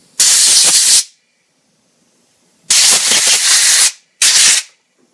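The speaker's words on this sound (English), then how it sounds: "I take my compressor, charge it up, and what I do is I come in and I spray the water" Three loud bursts of compressed air hiss close by, spraying water off Transformers toy parts, the first and second lasting about a second each, the last shorter, with silence between them.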